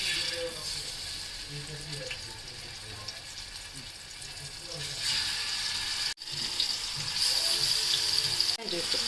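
Rava-coated anjal (seer fish) fries in oil on a hot tawa, a steady close sizzle with a brief break partway through and faint voices now and then.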